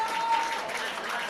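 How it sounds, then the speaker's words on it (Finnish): Wrestling crowd at a Regina vs Aurora Flame match cheering for Regina, a steady wash of applause and crowd noise with a commentator talking over it. "Yleisö näyttää siirtyvän Reginan kannustajaksi."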